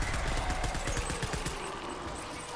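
Rapid gunfire in the video game Death Stranding: a loud, dense burst of repeated shots over a couple of seconds, with no talk.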